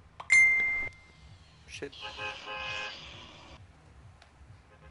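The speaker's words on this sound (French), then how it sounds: "J'ai oublié d'éteindre ma sonnerie encore" A phone ringtone goes off, a bright chiming tone sounding briefly and then a busier melodic burst, with a voice cursing over it.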